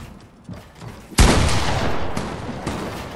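In the Fortnite video game, one loud, sharp gunshot bursts out about a second in, then a long noisy rumbling tail follows with a couple of fainter shots.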